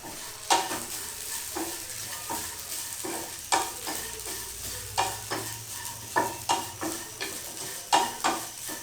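Spices such as cinnamon and cloves sizzle steadily in a pan for a mutton curry, with regular scraping and tapping strokes of a stirring spoon close by.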